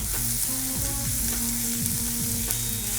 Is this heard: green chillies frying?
yes